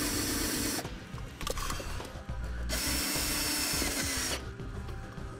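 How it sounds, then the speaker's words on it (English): A power drill driving self-tapping screws into the metal trim under a vehicle dash to mount a trailer brake controller bracket, whirring loudly and close in long stretches, pitch dipping and rising as it bites and stops. "Using a couple self-tapping screws, we can mount it here to the bottom of the dash to the metal piece of trim that runs underneath."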